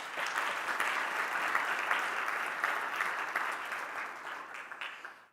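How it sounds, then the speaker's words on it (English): A conference audience at a public economics conference applauds its opening with a sustained round of clapping at moderate volume that holds steady, then tapers off and fades out at the end. "Give it a big round of applause."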